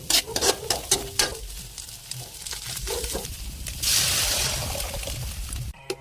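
Garlic sautéing in a pan for a mung bean dish, a steady close sizzle swelling louder partway through amid scattered clinks and stirring knocks.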